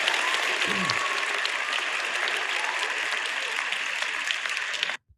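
Audience applause on a podcast, a steady dense clapping crowd sustained at even loudness for about five seconds, a brief low voice near the start, then cutting off abruptly.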